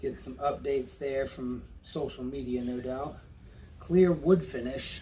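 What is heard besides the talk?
No distinct noise like a dog, phone or traffic.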